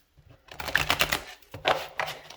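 A new, stiff tarot deck is shuffled in two quick bursts of close, crisp card riffling and clatter, with a brief pause between them and no talking.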